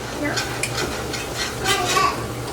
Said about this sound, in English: We're going to Whisk this flour into our butter.